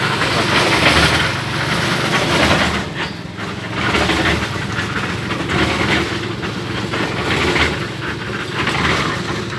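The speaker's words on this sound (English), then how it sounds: "I'm just going to take a step back from the mixer." Concrete mixer runs steadily during a house slab pour, a loud continuous engine drone with a rumbling churn that holds at an even level throughout, with no talk.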